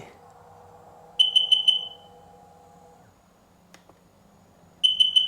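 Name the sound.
diagnostic scanner beeping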